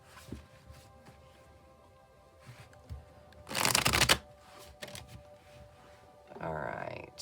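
A tarot deck is shuffled by hand in a riffling burst of dense card flutter at mid-clip, then a shorter shuffle near the end, with quiet handling sounds between.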